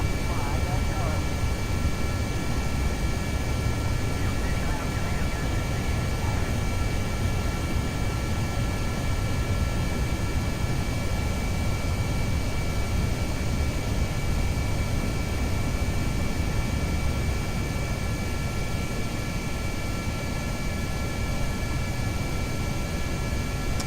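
Panther jet engines in the game Kerbal Space Program, a loud, steady broadband roar with faint whining tones that holds unchanged throughout.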